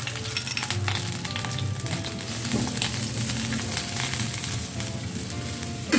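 Sliced onion fries in 2 to 3 tablespoons of hot oil, a dense and continuous close sizzle with light crackling, heard with no talk.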